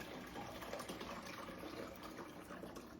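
Tap water runs steadily into the reservoir of a Ninja Luxe Café coffee machine, a continuous close splashing and gushing fill with no pauses.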